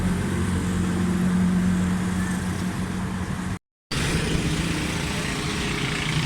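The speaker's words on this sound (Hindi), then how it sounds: "गाड़ी स्टार्ट है। कार्बोरेटर का साउंड बिल्कुल ठीक है।" A Suzuki Alto 1000cc car engine with freshly changed carburetor jets idles steadily at close range, a continuous low hum with a brief dropout midway.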